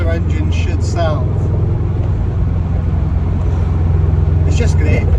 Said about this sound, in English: Sounds like how a boxer engine should sound.